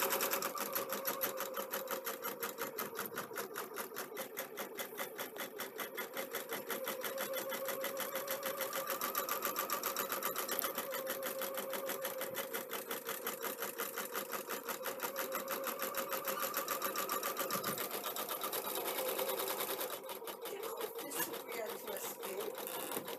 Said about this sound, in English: lots of people have said to me that they find this sort of sewing mesmerising